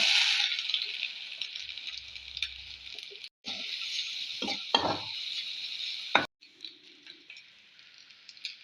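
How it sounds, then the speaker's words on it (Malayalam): Mustard seeds sizzle and crackle in hot coconut oil for tempering, a steady close hiss with sharp popping bursts and brief breaks. "കുറച്ച് കടുവ് വെളിച്ചെണ്ണ വെച്ചിട്ടുണ്ടേ കടുവ്"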